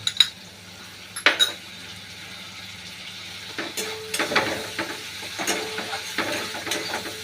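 Tomatoes and ginger paste frying in a pan, a soft steady sizzle with a few sharp clinks of a spoon against the pan and scraping stirs, no talking.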